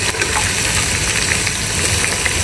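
Tomatoes sauté in a hot pan of sautéed aromatics for a jackfruit dish, giving a steady, dense sizzle that carries on loudly and evenly throughout with no voices.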